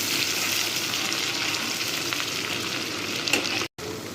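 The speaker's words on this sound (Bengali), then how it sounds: "এখন আমি তেলের মধ্যে পেঁয়াজ কুচি আর চাপা শুটকিগুলো দিয়ে দিব ভালো গ্রান আসার জন্য।" Chopped onion and dried fish sizzle in hot oil with a dense, even hiss that holds steady, cut off by a brief silent break just before the end.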